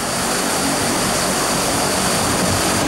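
A steady, loud propeller aircraft drone at very high altitude during a paratrooper drop, a dense unbroken roar with no voices over it.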